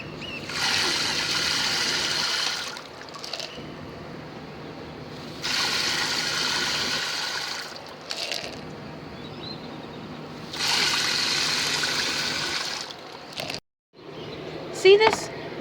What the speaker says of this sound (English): Now I'm going to add the grain straight to the water.